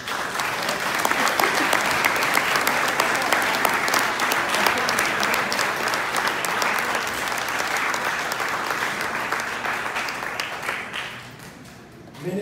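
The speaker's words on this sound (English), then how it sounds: "Please give yourself a round of applause" A large audience at an outdoor field naming ceremony in the Cayman Islands breaks into sustained, dense applause that holds steady for many seconds before tapering off near the end.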